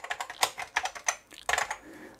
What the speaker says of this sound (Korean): 조금 키보드는 빡빡하고 좀 힘을 많이 줘야 되긴 하는데 그래도 원하는 대로 다 쳐지긴 합니다